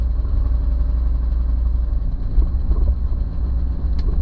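A 1977 Mercury wagon drives in first gear on a road test with a steady, low engine drone that stays even and close throughout, with no talk.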